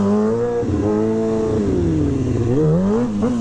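Motorcycle doing a wheelie on a city street in Garfield Park, its engine revving loud and close with rising and falling pitch, no talk over it.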